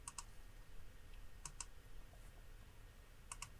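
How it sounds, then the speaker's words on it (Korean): Keys pressed on a computer keyboard during a 3ds Max animation lesson: three evenly spaced pairs of quick, light clicks, faint and close, over a steady low room hum with no talking. "키보드에서 N을 누르면"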